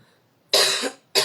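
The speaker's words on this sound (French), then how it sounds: "quand je crie, j'ai mal à la gorge et je tousse" Two sharp coughs, a long harsh one followed after a short pause by a brief second burst, close and loud with no talking.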